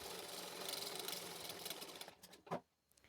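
Sewing machine stitching a folded blouse strip, a fast steady whirring run that slows and stops, ending with a couple of soft clicks, faint and close.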